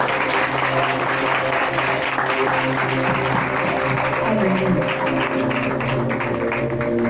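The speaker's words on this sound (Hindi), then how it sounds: "खुदा आपकी हजूरी के लिए जोरदार तालियां बजाएं।" A church congregation claps loudly and continuously during a sermon, a dense, even wash of applause with faint voices and musical tones underneath.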